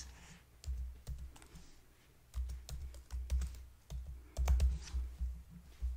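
A company name being typed on a computer keyboard, uneven bursts of close, clicky keystrokes with short pauses between groups, heard without talk.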